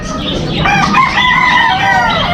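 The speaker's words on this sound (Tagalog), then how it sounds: "nandito nga tayo sa ating munting manukan tulad ng dati" Chickens and roosters in a small backyard coop, with loud, close rooster crowing and clucking from several birds overlapping over about two seconds.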